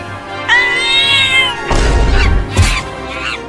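A cartoon cat gives a drawn-out tonal meow, followed by harsher yowling cries in a comedy cartoon scene, loud and close with no speech over it.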